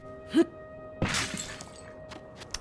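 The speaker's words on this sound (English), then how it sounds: "especially with regards to smashing pots" Ceramic pot smashed in Zelda: Tears of the Kingdom, a sharp shattering crash followed by scattered small clinks of shards, preceded by a brief chime, close and fairly quiet.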